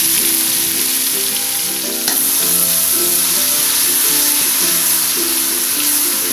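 Ground spice paste of lemongrass and other aromatics sizzles loudly and continuously in a hot pan, a dense close frying hiss with faint stirring clatter throughout.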